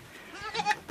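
Farm goats bleat once or twice, a short wavering call close by with faint background noise.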